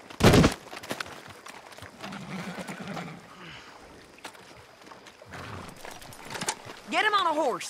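Horse hooves clip-clopping in a Western video game set in Mexico, faint and intermittent under ambient game sound, with voices and a short musical or whinny-like tone near the end.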